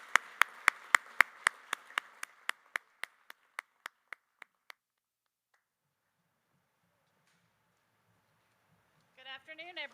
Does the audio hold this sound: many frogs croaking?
no